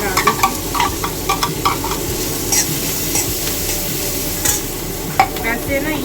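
Chopped onion sizzling in hot oil with asafoetida in a pan, a constant crackling fry broken by repeated scraping stirs of a spoon against the metal, loud and close with no talking.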